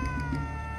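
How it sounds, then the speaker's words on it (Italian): A cat meows in a steady, sustained tone, fairly loud and close, alone without talk over it. "C'è il gatto!"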